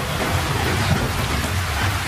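Heavy rain in a thunderstorm in the Sakura School Simulator video game, a dense, steady downpour with deep rumbling thunder underneath, loud and continuous.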